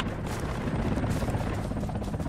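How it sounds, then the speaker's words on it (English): A helicopter in the military video game Project Reality gives a continuous, loud rotor drone and engine roar that fills the whole short stretch without a break, and nobody speaks over it. "Watch out for the helicopter southwest of us."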